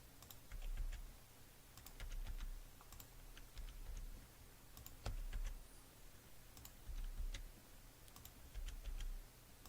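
Computer keyboard keys are pressed while working in Inkscape, a run of soft clicks coming in small irregular bursts with pauses, quiet and close against a faint low hum.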